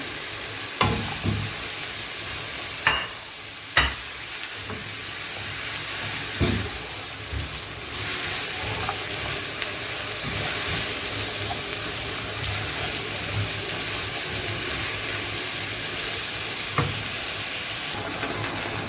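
Chicken and peppers sizzle steadily while frying in a pan for Mexican chicken quesadillas, a continuous close hiss with a few sharp clinks and stirring knocks, no voices.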